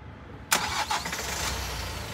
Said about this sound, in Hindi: अब इसका गाड़ी ऑन कर लो एक बारी आप।